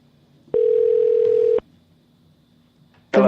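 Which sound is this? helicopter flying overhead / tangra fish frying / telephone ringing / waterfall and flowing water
telephone ringing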